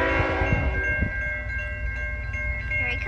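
A Canadian National freight train passes at a street crossing in Wyandotte, Michigan, its horn sounding in sustained steady blasts over a continuous low rumble of wheels and cars.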